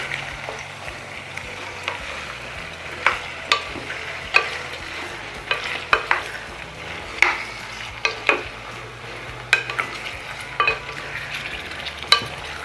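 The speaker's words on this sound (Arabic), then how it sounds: "بعد كده ننزل بالعصير الطماطم. بعد كده نقلب." Tomato sauce frying in a pan and being stirred, a continuous sizzle punctuated by irregular scraping clicks of a spoon against the pan, close and steady with no voices.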